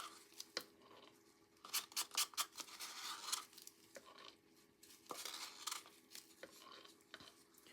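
Resin being stirred and mixed in cups gives off light, irregular scraping and tapping clicks from close by, in quiet bursts and with no talking.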